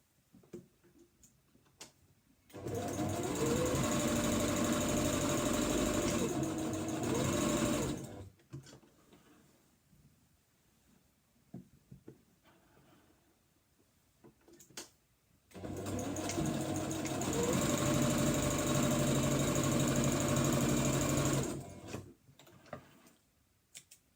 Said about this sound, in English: I'm going to stitch along the bottom,